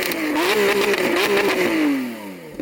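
A Lamborghini Aventador SVJ's V12 revving hard, its pitch climbing and holding through a loud sustained blip, then falling away as the throttle closes, close and alone.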